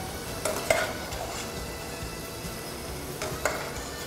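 Food frying in oil for bacalhau com natas, a soft continuous sizzle broken by a few metallic utensil clinks against the pan.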